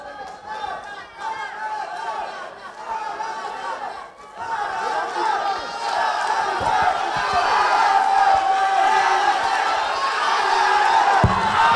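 A fight-night crowd roars at a CUFF 21 bout between Phillips and Salazar, a dense, loud mass of shouting and chanting voices that dips briefly near the middle before building again and staying high.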